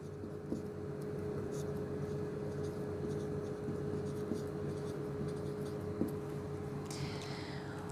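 Marker pen writing on a board in blue, producing a steady faint squeaking scratch over a continuous hum, with a few short taps and a louder squeak near the end.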